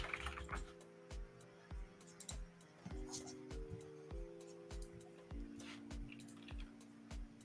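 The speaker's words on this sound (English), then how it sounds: "I'm just gonna type mine in" Keys tap on a computer keyboard in a series of light, quick clicks at an uneven pace, close and quiet, over a faint steady hum.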